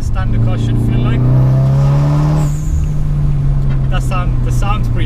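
Tuned 2018 VW Golf R with carbon fibre parts, engine revving up loud and close with a rising drone that cuts off sharply, then lower running noise as people talk over it.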